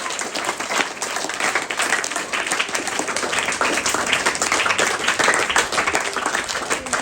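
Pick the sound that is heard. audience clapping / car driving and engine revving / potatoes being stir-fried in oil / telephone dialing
audience clapping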